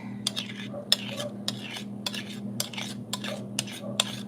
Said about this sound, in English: I think it's as mixed as it's gonna get by hand.